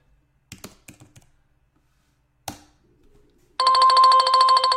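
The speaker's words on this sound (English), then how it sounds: "see that ringing? I'm getting a message" A few scattered keyboard clicks give way to a phone's message notification, which rings loud, close and continuous through the final second or so.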